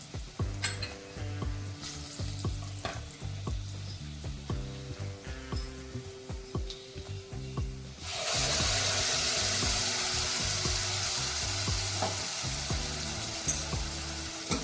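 Ground spice paste with turmeric sautéing in a pan for a sweet-sour raw mango dish breaks into a sudden loud, continuous hiss partway through and keeps sizzling steadily, with soft background music throughout.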